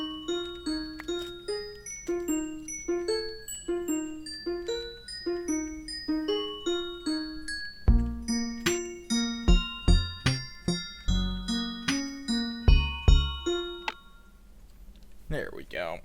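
Minecraft note block rendition of a song, bright plucked chime-like notes in a steady rhythmic melody, joined by deeper bass notes halfway through, ending abruptly with a short rustle and no talking.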